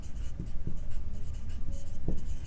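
Pen or marker writing out a math solution for a sixth-grade lesson: a few scratchy strokes and taps close to the microphone, heard over a steady background hum.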